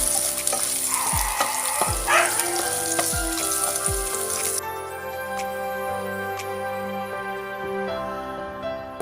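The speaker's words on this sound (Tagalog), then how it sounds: "Hulog ang bawang. Haluin lang hanggang sa mag-brown ang ating bawang." Chopped garlic frying in hot oil in a pan while being stirred, a steady close sizzle punctuated by a few low utensil knocks, the hiss dropping to a quieter, even bubbling partway through.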